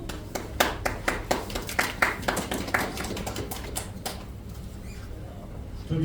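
A small group claps in a city hall briefing room at a press conference for a Cheongju mayoral candidacy, sharp individual claps ringing out in a loose run for about three seconds, then fading into room murmur.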